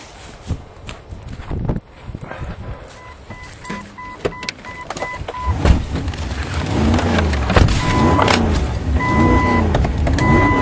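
A vehicle drives downrange at a shooting range, its engine and road noise rising and staying steady and close through the second half, with scattered knocks and rattles earlier and no talk.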